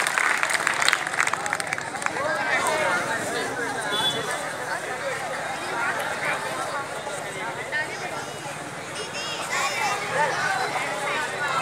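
A crowd at an outdoor Republic Day celebration claps for children about to perform, a dense, sustained patter of applause mixed with murmuring voices and general hubbub.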